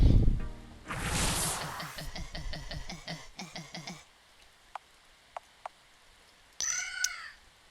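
Birds in a video game stealing gold coins, giving a run of rapid chirping, squawking game effects, then a few sharp isolated clicks and a brief bright warbling chime near the end, with no talk.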